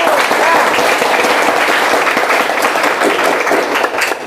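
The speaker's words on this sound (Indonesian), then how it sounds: "Silakan tepuk tangan yang semangat dulu untuk Restu." A classroom of students claps loudly and densely for a classmate in a group guidance session, a sustained burst of close applause with a few voices mixed in.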